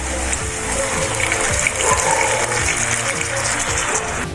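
Water gushes steadily into a pan of prawns cooking with softened onions and ginger-garlic paste for a prawn masala, a continuous close splashing pour with no talking.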